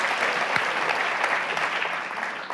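An audience at a magic lecture bursts into steady, dense applause that carries on throughout at an even level, with no voice rising above it.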